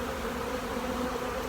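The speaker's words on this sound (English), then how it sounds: "I'll shake bees off the next one." Honey bees buzz steadily on a hive frame in a fall brood nest, a close, even drone with no voices.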